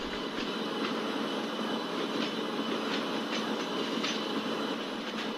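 Nagarcoil Express running behind an SRC WAP-7 electric locomotive on the western route, a steady loud rumble of rolling wagons with faint recurring clicks of wheels over rail joints throughout, no voices.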